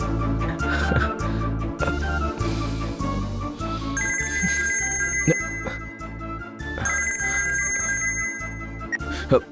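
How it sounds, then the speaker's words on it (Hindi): A phone rings during a call in a Hindi television serial, its electronic tone repeating twice over a loud, steady pulsing music bed. "राजशेखर को कॉल करती हूँ।"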